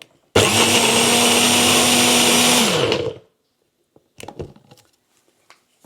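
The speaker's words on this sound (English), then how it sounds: "And I just blend it." A countertop blender whirs loud and steady for about three seconds while a thick breakfast smoothie blends, then cuts off, followed by a few faint knocks and clatters.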